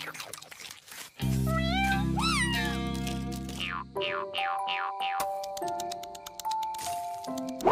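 Cartoon cats meow in a playful, exaggerated series of rising and bending cries over springy, boing-like musical sound effects, fairly loud and close with no talk.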